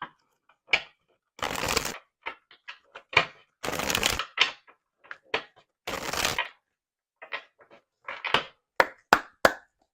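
Oracle cards shuffled by hand at close range: sharp riffling bursts and quick papery slaps in irregular clusters, ending in a few crisp taps, with no talking.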